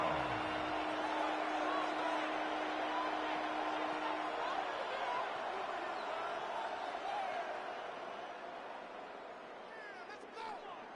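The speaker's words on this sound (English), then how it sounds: "The Buffalo crowd being heard before 3rd down" Crowd noise in the Buffalo stadium during a Madden 26 football game, a broad roar that swells and slowly fades, sitting under a commentator's voice.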